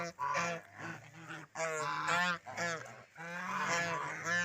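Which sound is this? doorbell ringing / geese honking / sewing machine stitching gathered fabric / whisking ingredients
geese honking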